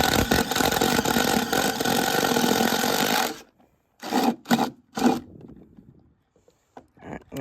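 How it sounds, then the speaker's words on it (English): A power drill runs steadily for about three seconds, then stops, followed by a few short bursts and faint clicks. "Now I'm gonna drill them on camera."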